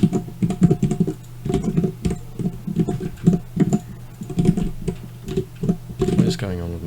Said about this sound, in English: What is going on with my typing?